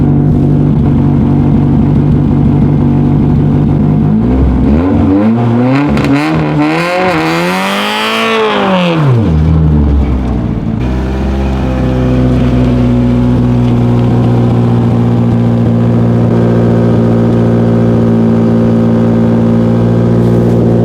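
A Toyota AE86 engine roars and revs hard during an attempted brake stand with faulty brakes, pitch climbing and falling in a surge, then settles into a steady loud idle drone.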